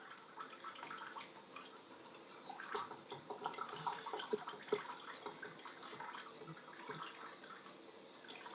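Brown, smelly water runs steadily from a house tap, a faint, continuous splashing and trickling with small drips throughout.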